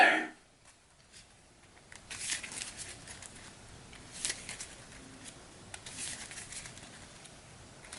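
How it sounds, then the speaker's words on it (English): A deck of game cards shuffled by hand during a Hero Realms tabletop session, with soft repeated riffling and patter bursts, close but quiet, following a brief louder handling sound at the start. "We'll shuffle all of this up."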